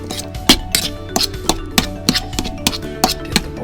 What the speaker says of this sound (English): Now it's time to stir the mass up, break the tuna down into bite-sized pieces.